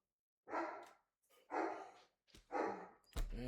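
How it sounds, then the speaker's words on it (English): A dog barks three times nearby in loud, evenly spaced bursts, followed by a sharp thump at the end. "And there goes my dog barking."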